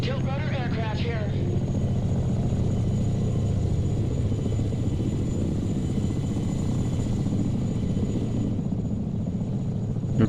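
A CH-53 helicopter in the video game Broken Arrow drones with a steady, loud rotor and engine rumble that holds throughout, with a brief warbling radio-like effect near the start.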